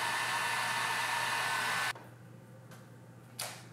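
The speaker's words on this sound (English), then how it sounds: "hit it one more time with this heat gun" A heat gun blows hot air onto an old hammer of an upright piano to loosen its glue, a loud steady roar that cuts off abruptly after two seconds, followed by a brief faint rustle.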